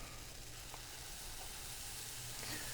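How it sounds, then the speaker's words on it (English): Pancake batter sizzles on a Lodge carbon steel griddle set over copper diffusers, giving a faint, steady hiss with small crackles, heard alone and close. "You can hear it's got a little sizzle."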